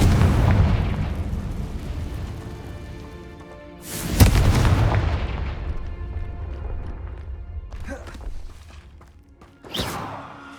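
Fiery spell blasts from Hogwarts Legacy, loud booming bursts at the start and near four seconds, with a smaller crack near the end, each followed by a rumbling decay, no talk.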